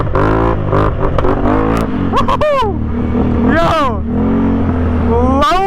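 A four wheeler ATV running a new aggressive tune revs hard close by, its engine pitch climbing and dropping in repeated sharp surges, with a person's voice talking over it.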